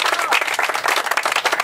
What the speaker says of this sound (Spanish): Le aplaudimos.